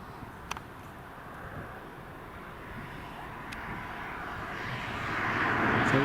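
An Apache helicopter lifting off at Carlisle Airport, a steady broad engine and rotor roar that builds louder toward the end, with no talk.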